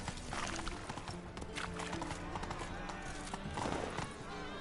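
Roach, the horse in The Witcher game, gallops with a quick rhythmic clatter of hooves and a jingle of tack, close and continuous, with a voice speaking over it.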